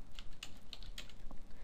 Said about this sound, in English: I am going to actually type in